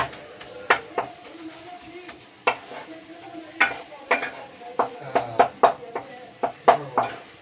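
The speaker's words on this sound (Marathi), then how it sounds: "नेहमी असे आपण करट्याने हलवत राहू, त्यामुळे आपला मसाला खाली लागणार नाही आणि छान असा मसाला आपला फ्राय होतो." Masala frying in a pan while being stirred with a spatula, giving irregular scraping and clinking strokes over a faint, low sizzle, close and fairly quiet, with no voices.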